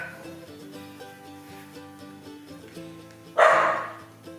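A pet dog gives a single sharp bark indoors near the end, loud and close, over a steady background of music-like tones.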